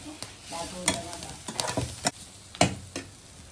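Onions fry in a pan until pink, with sizzling under repeated scraping and stirring strokes, a handful of distinct clinks spread over a few seconds.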